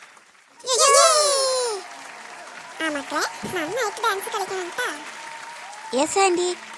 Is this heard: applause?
yes